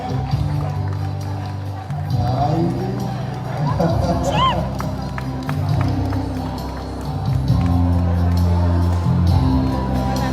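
A crowd claps and cheers steadily throughout a performance at the Palais de la Culture in Treichville, with a hubbub of voices and occasional shouts mixed into the ongoing applause.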